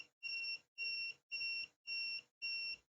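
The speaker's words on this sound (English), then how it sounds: "the buzzer is ringing" An STM32-driven fire alarm buzzer beeps in a steady pulsing pattern, five or six even electronic tones with short gaps, clear and unaccompanied.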